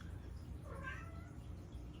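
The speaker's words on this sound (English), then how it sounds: "My poor kitties are meowing at the door." A single faint cat meow rises briefly in the middle, over a steady low hum.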